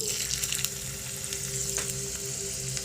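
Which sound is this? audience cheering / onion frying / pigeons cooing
onion frying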